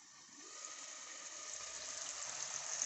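Water is poured steadily into a cooking pot holding chicken and yogurt, a soft continuous hiss that swells slightly toward the end, with no talking.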